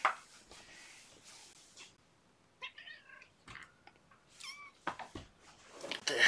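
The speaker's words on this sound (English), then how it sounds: "The happy mews." A young cat gives a few short, high mews spaced through a quiet room, with small rustles and soft movement noises between them and a louder burst near the end.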